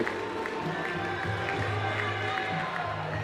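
A loud crowd at a table tennis match at the South African Open cheers and claps continuously, a dense roar of voices and applause throughout with a commentator speaking over it.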